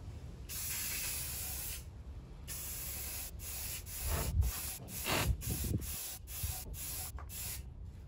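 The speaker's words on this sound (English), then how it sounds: "Let's spray some primer." Primer hisses from a spray can onto a model rocket part, a long steady burst followed by a run of short on-off bursts with brief gaps, close and fairly loud.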